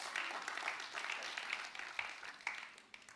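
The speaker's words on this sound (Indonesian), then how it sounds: "Bisa berikan tepuk tangan buat Tuhan?" A church congregation claps together during a sermon, a fairly faint and brief burst of applause with uneven, scattered hand claps.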